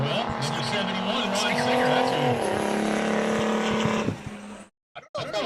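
A race car lapping a paved oval during qualifying at Mission Valley Super Oval, a loud sustained engine roar that falls in pitch as it passes, then cuts off abruptly.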